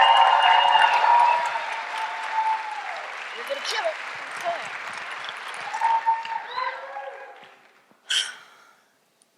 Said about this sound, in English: Please give a big round of applause for Sarabeth.